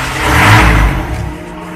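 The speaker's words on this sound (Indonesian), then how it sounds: "mesin kita hidupkan" A car engine started and running, a steady low rumble with a rising swell near the start that settles into an even idle, moderately loud and alone.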